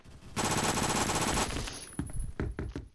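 Rapid automatic gunfire in the online shooter Phantom Forces rattles in a loud sustained burst, then breaks into scattered sharp single shots and short volleys.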